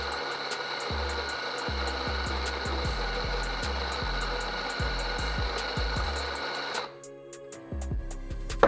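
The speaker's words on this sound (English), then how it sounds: "So we could just grind into the dosing cup some coffee." A SanRemo AllGround home coffee grinder grinds coffee beans into a dosing cup, a steady close mechanical whir running for about seven seconds before it cuts off, followed by a few faint clicks and knocks.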